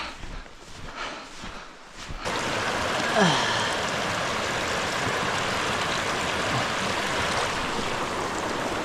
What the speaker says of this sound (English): Oh, running water.